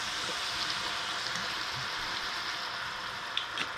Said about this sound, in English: Deglaze this with a little bit of sherry